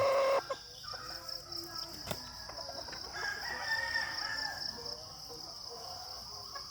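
Sweater breed chicken pullets, ready to breed, with a rooster-like crow rising over scattered clucks and a steady insect hum in the background.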